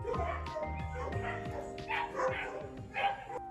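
Several puppies bark and yip over one another at a dog adoption site in Caborca, with a steady run of close, high-pitched barks and some whimpering over light background voices.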